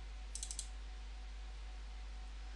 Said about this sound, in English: So double click.